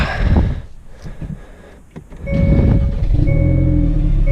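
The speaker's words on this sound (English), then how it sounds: "Alright, let's give her a start up." A Hyundai Veloster N engine with an SXTH Element intake cranks and catches after a few seconds of quiet clicks, then settles into a steady, close idle hum with a faint electronic whine.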